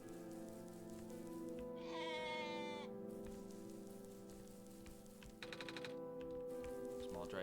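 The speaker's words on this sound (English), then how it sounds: "I don't know what that goat's deal is, but I like that goat." Goat bleating in the video game OneShot, a couple of wavering bleats over steady background game music and ambient rain-like patter, with a voice speaking over it.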